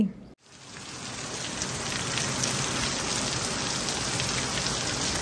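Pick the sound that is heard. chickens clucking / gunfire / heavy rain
heavy rain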